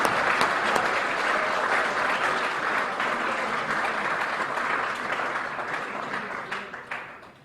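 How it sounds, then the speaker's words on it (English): A crowd at a 2014 election concession speech breaks into sustained applause, dense and loud at first, then thinning into scattered claps as it fades toward the end. "you should give them all a round of applause"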